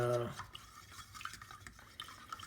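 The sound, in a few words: stirring walnut wood stain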